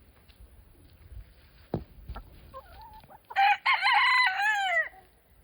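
Backyard chickens give a few soft scattered clucks and scratching noises, then a rooster lets out a loud, close, sustained crow near the end.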